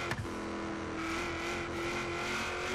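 A slammed, stanced Chevy SS in Forza Horizon 3, its engine roaring loudly and continuously through a downshift, with a brief burble near the start.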